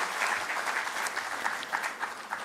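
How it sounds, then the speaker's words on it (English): Applause from the gathering at a law book launch event, a crowd clapping steadily with a slightly uneven, pulsing texture, heard clearly for a couple of seconds without voices. "A big round of applause for our fraternal brother."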